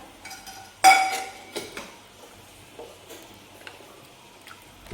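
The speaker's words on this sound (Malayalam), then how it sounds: "നമുക്കിനി ഇളക്കി കൊടുക്കാം" Prawns are stirred in a metal pressure cooker while making kinder biryani, with one sharp clank of the spoon against the pot followed by lighter, intermittent scrapes and taps, with no talking.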